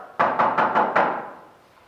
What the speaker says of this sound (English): There was a knock on my door.